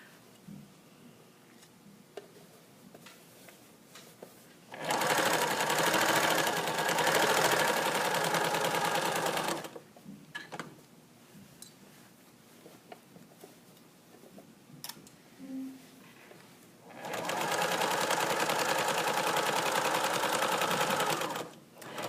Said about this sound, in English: If my machine needle wasn't down, I can use my hand wheel to wheel it into position.